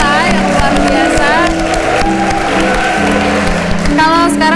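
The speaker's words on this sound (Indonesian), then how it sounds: "Sekali lagi tepuk tangan untuk SMK Negeri 5 Jakarta yang luar biasa." An audience claps for SMK Negeri 5 Jakarta, a vocational school, on a morning TV programme. The applause is loud and continuous, with cheering, music and overlapping voices mixed in.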